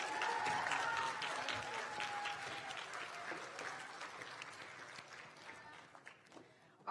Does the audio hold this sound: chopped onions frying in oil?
no